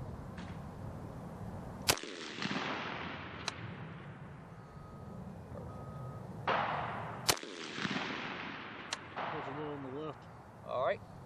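Two loud, sharp rifle shots fired downrange on an Army marksmanship range, several seconds apart, each with a long echoing tail, and faint voices underneath.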